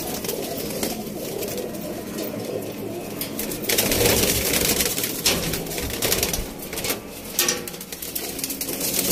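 Pigeons coo steadily inside a loft, a dense, close chorus of overlapping low calls with occasional wing flaps and rustling, no voices.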